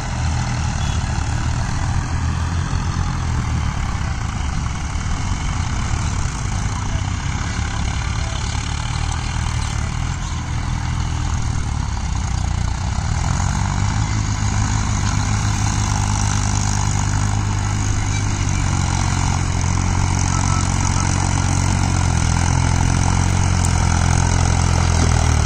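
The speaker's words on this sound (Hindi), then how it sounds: "देखो ये भी ट्रैक्टर न्यू हॉलैंड है" A New Holland 3630 tractor digging a pond runs with a loud, steady diesel engine drone, close by, its low rumble thickening and deepening partway through without pause.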